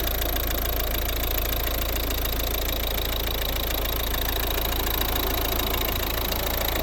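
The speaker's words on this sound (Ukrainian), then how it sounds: "почалася робота двигуна" The small 1.6 D2 diesel engine of a 2012 Volvo V50 idles steadily with a dense, slightly knocking mechanical rattle, continuous and close throughout with no talking.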